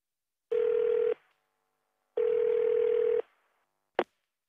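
Two long, steady telephone ringback tones on a line calling a bank hotline, evenly spaced with silence between, followed by a short click.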